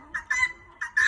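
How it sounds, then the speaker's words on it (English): Female guinea hen calling near a backyard coop, giving a few sharp, harsh rhythmic squawks in two quick pairs, fairly close and clear with no talking. "That's our female guinea hen."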